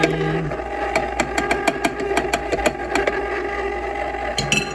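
A homemade ice cream maker's motor spins steadily with a continuous hum and a regular run of sharp clicks or knocks. The clicking breaks off near the end, and no one speaks.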